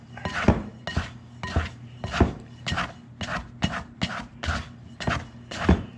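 A bread scraper scrapes sticky sourdough dough from the sides of a mixing bowl in about a dozen quick, evenly spaced strokes, each a short rasping swipe, close and alone without talk.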